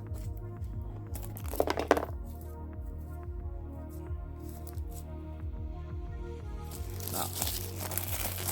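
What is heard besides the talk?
unwrapping packaging of Wolf Creek 4K collector box set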